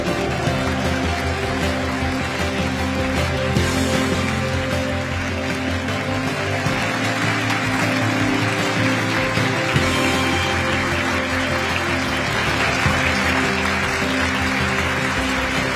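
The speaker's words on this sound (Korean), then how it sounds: "모두 일어나셔서 큰 박수로 환송해 주시기 바랍니다." An audience stands and applauds to see off the president at a gathering of newly appointed officials, a steady, full patter of clapping sustained for the whole stretch under a faint tonal drone.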